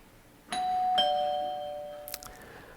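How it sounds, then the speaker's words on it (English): A doorbell chimes two clear ringing tones in succession, the second note lingering and slowly fading, followed by a brief faint clatter. "What you just heard is my doorbell at home."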